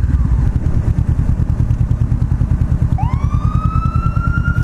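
A Honda CBR500R motorcycle's engine drones steadily up close while an ambulance siren breaks in midway with a rising wail that keeps sounding over the engine.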